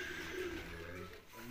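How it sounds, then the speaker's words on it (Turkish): Pigeons cooing at a dog-breeding farm in Mardin, soft low coos repeating in a steady murmur against a faint background, distant and quiet with no talk. "bunlar güvercinler ne kuşu?"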